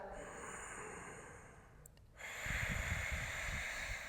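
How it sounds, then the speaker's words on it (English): Deep ujjayi yoga breathing during a plank pose practice: a close, soft airy exhale fades out, then a louder, rougher inhale swells and holds, with no talking. "We're gonna take a big ujjayi breath here."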